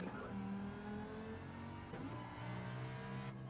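A car engine in a racing video game revs sharply on forced downshifts, with rising and falling whines and a quick jump in pitch midway, fairly loud and alone without talk.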